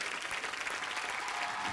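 An audience welcoming a singer with loud, dense applause, a continuous wash of many hands clapping together throughout with no break.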